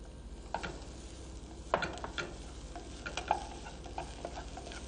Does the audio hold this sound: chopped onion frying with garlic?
yes